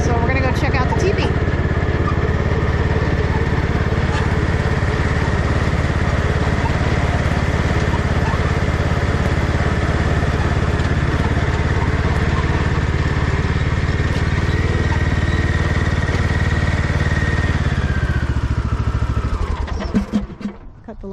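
A lawn tractor engine runs steadily at a loud, close idle, a constant droning rumble that cuts off and winds down near the end, with someone talking over it.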